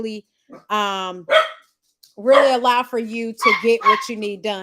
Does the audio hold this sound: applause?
no